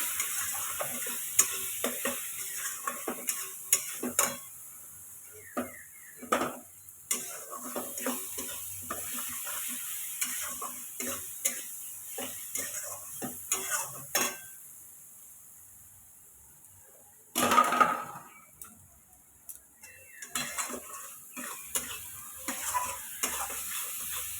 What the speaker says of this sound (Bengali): ভালো করে এখনো কষাবো এটা মশলাটাকে